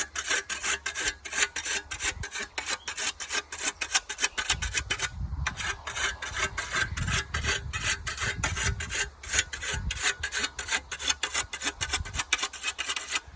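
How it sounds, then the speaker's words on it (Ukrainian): Rapid, rhythmic scraping strokes of a whetstone along a scythe blade, bright and close, repeating steadily with a brief pause midway. "показую тепер як косити і заправляти косу"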